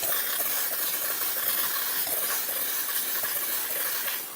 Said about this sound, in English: Point the steamer into a microfiber towel.